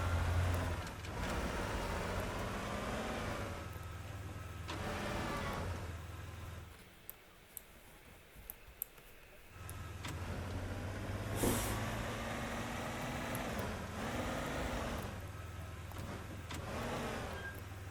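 A truck driven in the video game Teardown, a steady engine drone that drops away for a few seconds and then returns, with brief clanks and a hiss in the gap, heard alone.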